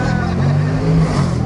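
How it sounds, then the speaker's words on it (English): A Jaguar SVR engine rumbles loudly and continuously close by, a deep throaty drone rising and falling slightly as it revs, with no voices over it. "Can't beat the sound of an SVR as well, can ya?"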